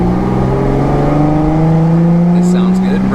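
A Jeep Wrangler JK with an aftermarket Flo-Pro exhaust idles and revs with a deep, throaty exhaust rumble, loud and close, holding a steady growl.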